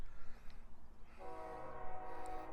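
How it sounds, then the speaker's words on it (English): A train approaches in the distance, its horn sounding partway through as a sustained multi-tone blast over a low rumble, faint and far away amid outdoor background noise. "And the train's coming."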